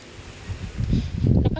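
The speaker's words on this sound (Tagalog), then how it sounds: "Lakas ng hangin." Strong gusts of wind rush through leaves, the rustling swelling louder toward the end, close and steady.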